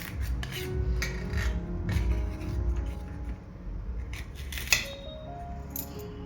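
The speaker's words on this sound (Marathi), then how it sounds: "मी आता तुम्हाला चिरून दाखवते बघा। असे बारीक बारीक आपले चिरून घ्यायचे आहे।" Peeled fresh ginger being finely chopped with a knife in a home kitchen, a run of quick, light cutting taps with occasional sharper knocks, close and alone without talk.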